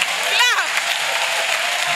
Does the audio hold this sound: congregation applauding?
yes